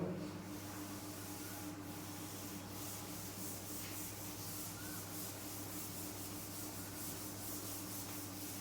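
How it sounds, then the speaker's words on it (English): Chalk being rubbed off a classroom blackboard, a faint, steady rhythmic scrubbing and brushing texture over low background hum, continuing for about eight seconds. "Let me rub the blackboard."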